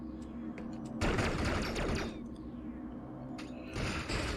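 Missile shots in Metroid: Samus Returns sound as two loud, rough blasts with a mechanical whoosh over a steady in-game background hum.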